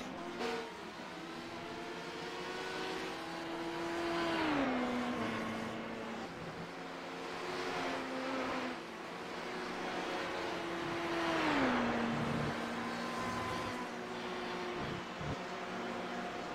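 Race cars lapping Spa-Francorchamps in an iRacing Le Mans Series event, with engines whining up and down through gear shifts, passing cars and a Ferrari in steady engine drone, no talking.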